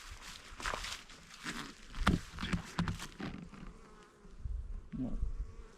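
Honeybees buzz around a pair of beehives at modest activity, a steady insect drone with brief louder passes as bees fly close, plus some soft shuffling steps nearby.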